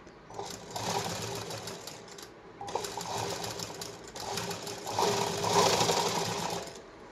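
A sewing machine runs in three bursts of rapid, close stitching as a double seam is sewn on a size 32 katori blouse, with short pauses between runs.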